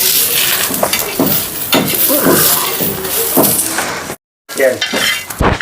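Rice stir-fried in a hot pan for jeera rice, a loud continuous sizzle with a utensil scraping and stirring close by, cut by a brief moment of silence before the frying resumes.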